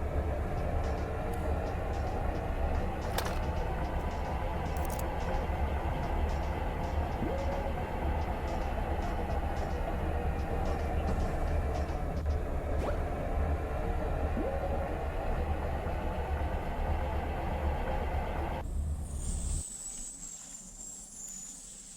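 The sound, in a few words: train moving in ExoTrain video game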